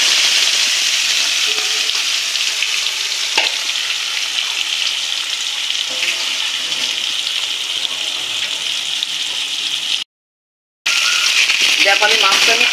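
Rohu fish pieces fry gently in hot oil, a continuous close hiss and fine crackle with occasional pops, cutting out briefly near the end before resuming.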